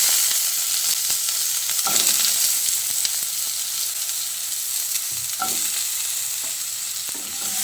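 Cut potatoes frying in hot oil with dried red chilli and panch phoron, a steady broadband sizzle with a few sharp scrapes and clinks of a spoon stirring in the pan, close and continuous, no talking.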